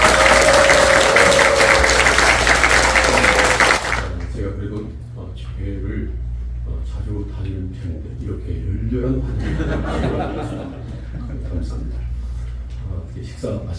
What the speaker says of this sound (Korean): 손바닥이 뜨거울 정도로 박수로 환영하며 우리 목사님 모시고 오겠습니다